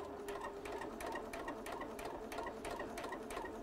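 A sewing machine stitches fabric at a steady practice speed, giving a quiet, even run of rapid mechanical ticks and clatter with no voices.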